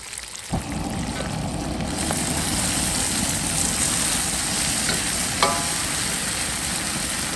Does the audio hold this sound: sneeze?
no